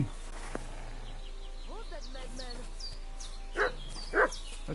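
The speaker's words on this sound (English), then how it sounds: "This wild dog's trying to chew me up" A wild dog attacks in Kingdom Come Deliverance 2, giving a few whines and yips and then two short, loud snarling bursts near the end, while someone talks over it.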